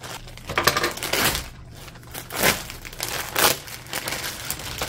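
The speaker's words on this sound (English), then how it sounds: "I'm gonna have to cut this bag." Plastic packaging bag from an Eddie Bauer throw blanket being cut open and crinkled, a close, loud series of irregular rustling and crackling bursts with no talking.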